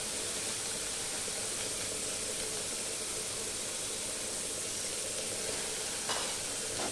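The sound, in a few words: rice frying with salt and turmeric in a pan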